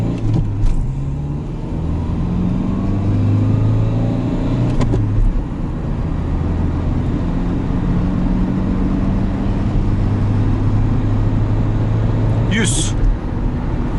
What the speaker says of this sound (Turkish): Şöyle sağ dönüp ufaktan tatlı bir gazlama yapacağım sizlere arkadaşlar.